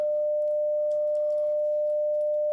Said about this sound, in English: That's a 600 hertz tone.